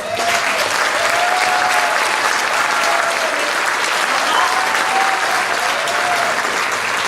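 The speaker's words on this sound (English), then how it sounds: "let's just thank and give a round of applause to all of our contestants" A crowd claps for talent show contestants, loud and sustained applause filling the room evenly from start to finish, with a faint tonal sound drifting through the background.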